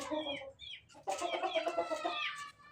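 A hen clucks and cackles close by in a village coop, a short burst, a pause, then a longer run of loud, rising calls.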